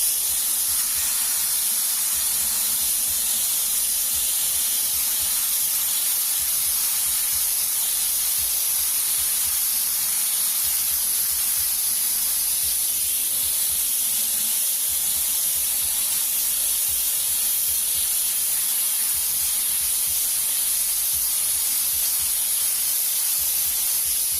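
Airbrush spraying blue paint in a smooth fade, a steady broad hiss of air and paint running nearly continuously, with a low rhythmic compressor pulse underneath and brief pauses between passes.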